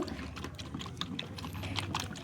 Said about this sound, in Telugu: వేడి నీళ్ళైనా పోసుకోవచ్చండి